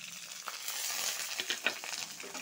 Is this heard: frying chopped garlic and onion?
yes